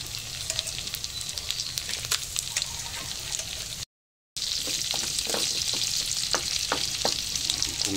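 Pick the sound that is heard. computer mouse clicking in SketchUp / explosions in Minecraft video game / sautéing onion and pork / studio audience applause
sautéing onion and pork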